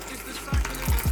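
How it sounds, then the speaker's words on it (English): Water pours into a container to mix a protein shake, a few short splashy gurgling bursts close by, with no voice over them. "Then you add 450 milliliters of water."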